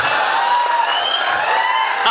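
A crowd at a Hindi poetry recital by Hariom Pawar claps and cheers, loud and sustained, with whoops and shouts rising over the continuous applause.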